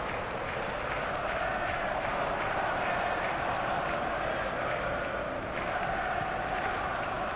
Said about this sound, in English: The crowd reaction tells you just how close that was.